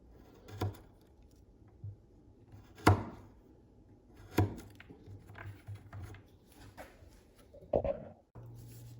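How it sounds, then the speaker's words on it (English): A Kizer Conaway Deviant folding knife push-cuts through material in a few separate crisp strokes, each a short sharp slice with quiet pauses between, and the last cut ending in a brief low thump. "Let's do some nice push cutting without a problem"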